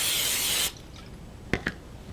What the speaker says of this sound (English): spray it with some non-stick cooking spray